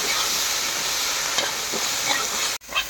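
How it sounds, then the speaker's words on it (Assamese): Okra and potatoes frying in oil for a home-cooked sabzi: dense, close, steady hiss and crackle with a few stirring scrapes and a brief break near the end. "অকণমান ভিন্দি চব্জি ধুনীয়াকৈ ভাজি আছোঁ মই।"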